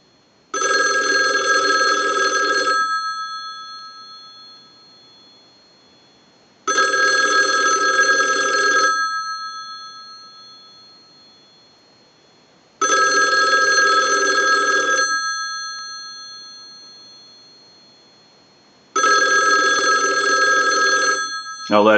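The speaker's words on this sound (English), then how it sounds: "use the analyzer and send a ring cycle like you were getting a call" A Western Electric single-slot payphone's bell rings in four long bursts about six seconds apart, each a bright metallic clangor that fades during the pause before the next. The phone is being put through a test ring cycle.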